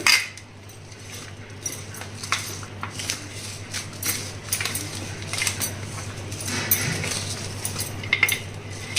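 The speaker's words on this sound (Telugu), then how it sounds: "ఇప్పుడు చేత్తో కలిపేస్తానండి, చల్లగా అయిపోయింది." Cooled pulihora tamarind rice is mixed by hand in a metal dish, giving soft squishy rustles with occasional light clinks of the vessel, close and steady.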